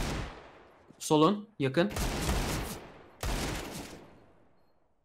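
Several loud bursts of automatic gunfire in the Counter-Strike: Global Offensive video game, separated by short gaps, with a player's voice speaking between bursts.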